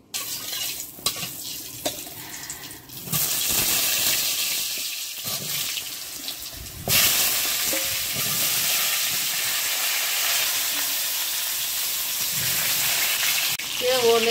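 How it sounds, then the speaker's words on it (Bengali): Potatoes and elephant foot yam fry in oil in a wok, starting quieter and rising to a loud, steady sizzling hiss that carries on to the end, close by with no clear talk. "আমি এখন কড়াইয়ে একটু তেল দিয়ে দেবো, দিয়ে আলুটা ভাজবো।"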